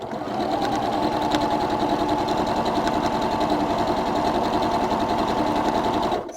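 A sewing machine stitches pairs of quilt pieces in a chain, a fast steady mechanical rattle running nonstop for several seconds at close range, no talking.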